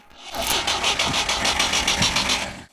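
An abandoned Coca-Cola truck left about 30 years in a forest has its engine turning over on the starter, a steady rhythmic cranking that holds close and loud for nearly three seconds.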